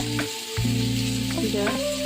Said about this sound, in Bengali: কাঁচা লঙ্কা দিয়ে নেড়ে চেড়ে ভেজে